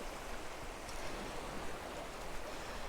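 Sea water washing steadily at Rossall Beach, a continuous broadband wash of surf with no distinct breaking peaks, fairly close and even in level, with no voices.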